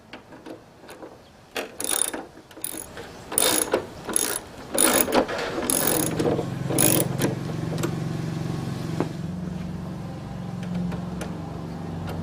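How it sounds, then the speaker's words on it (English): A ratchet with a short extension backs out headlight bolts on a Victory Cross Country motorcycle, in quick bursts of close clicking that give way to a low steady hum. "a little extension, and a ratchet. It's going to be 4 bolts we're going to remove."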